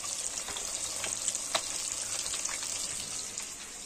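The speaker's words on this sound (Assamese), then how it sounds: "এইফালে ফ্ৰাই মাছ হৈ আছে" Fish, a local rohu, frying in a pan gives a steady, hissing sizzle with faint crackles and small pops, fairly quiet and continuous for a few seconds without speech.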